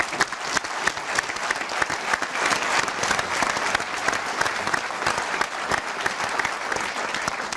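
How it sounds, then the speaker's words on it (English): An audience gives a sustained round of applause for a gym team at a live event, dense steady clapping that fills the whole stretch without pause. "a round of applause for them"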